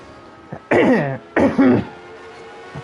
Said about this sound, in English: I don't like clearing my throat any more than you like me hearing me do it